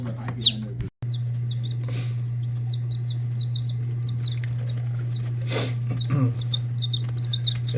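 Newly hatched gamefowl chicks chirp in quick high peeping bursts close by, over a steady low hum from an incubator, with a brief dropout near the start.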